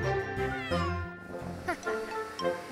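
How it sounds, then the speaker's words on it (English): A happy cartoon kitten meows several times in a row, close and clear, with bright rising and falling cries. "Look how happy the kitten is."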